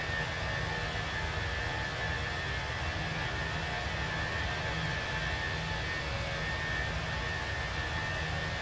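An airplane rolls down the runway as a steady, loud broadband roar of engine and rumble, unchanging and without voices.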